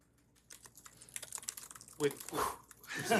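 Fast, forceful typing on a computer keyboard during a Miami Dolphins press conference: rapid clattering keystrokes that grow louder and denser, with voices in the room.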